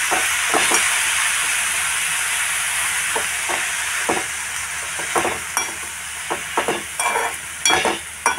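Vegetables with onion and garlic are stirred in a hot pan, sizzling and hissing steadily while a spoon scrapes and clacks in irregular strokes, louder toward the end.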